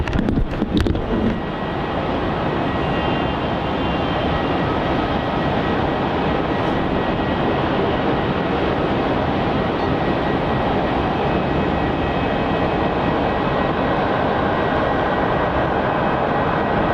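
Virgin Australia airliner VA212 from Adelaide landing at Melbourne Airport, a sustained loud roar of jet engines with a brief crackle at the start, steady throughout with no voices.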